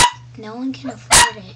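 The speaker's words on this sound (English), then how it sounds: "that's my dog's barking" A dog barks a couple of times nearby, sharp loud bursts breaking through someone talking steadily in a home setting.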